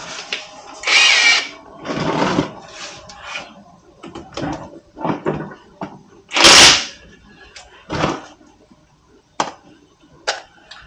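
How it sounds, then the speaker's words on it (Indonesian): An impact wrench on a 12 mm socket during a car oil change fires in several short, loud bursts separated by quieter clinks and pauses, heard up close. "Sini kita pakai impact aja."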